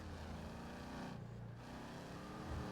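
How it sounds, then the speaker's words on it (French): A modified car engine in a police patrol video game drones and revs, a low harmonic hum that dips and rises again, faint and close with no talk. "le son de la voiture a été changé aussi"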